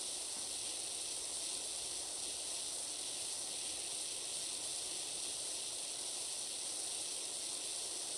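A steady, hissing spray of high-pressure water from a video game pressure washer with a wide nozzle runs without a break, even and fairly quiet, with no voices.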